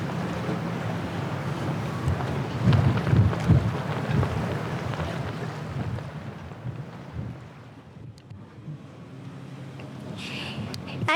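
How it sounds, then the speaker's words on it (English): Steady wind gusting across a sailboat at anchor, with broad roaring rush and buffeting on the microphone throughout, easing slightly toward the end before rising again. "The wind is only 15 knots."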